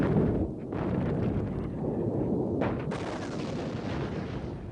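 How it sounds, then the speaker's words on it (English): Artillery fire on the Syrian front in the Yom Kippur War: dense, rumbling bombardment with overlapping booms and a sharp blast near the end, loud and sustained without speech. "They now relied more heavily on artillery to dislodge the Syrians at long range."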